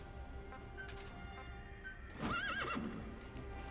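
A horse companion in Metal Gear Solid V: The Phantom Pain gives one clear, fairly close whinny partway through, with hoofbeats and steady game ambience in the background.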